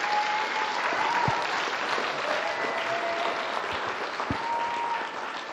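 Applause from an audience at an Italian sports program event honoring swimmers, steady clapping filling the whole stretch with a faint tone and occasional thumps underneath.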